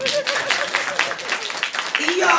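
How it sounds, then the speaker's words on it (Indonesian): Audience clapping at a Maulidur Rasul gathering at an Islamic boarding school, a quick patter of hands running under a man's continuing speech. "Tepuk tangan."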